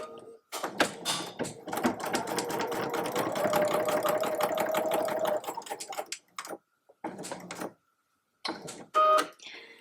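Sewing machine stitching a sew-in label onto a simple tote bag, fast rhythmic needle chatter in a sustained run, then short stop-start bursts with gaps, close and clear, no voices.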